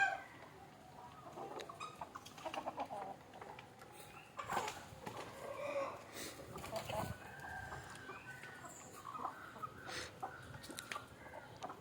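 Several free-range country chickens, including black chickens, cluck and chatter intermittently close by, with a rooster's crow mixed in among the scattered farmyard noises.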